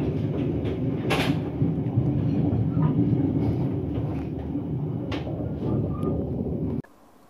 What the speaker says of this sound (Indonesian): Pukul 22 lewat 22 menit kereta api Kahuripan berangkat dari stasiun Kiara Condong.